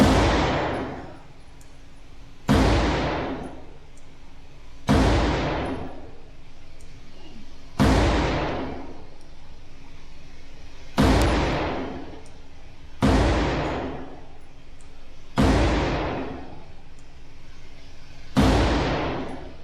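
Eight loud, evenly spaced pistol shots from a Fusion XP-PRO Comp at a shooting range, one roughly every 2.5 seconds, each a sharp crack with a decaying echo and no talk between them.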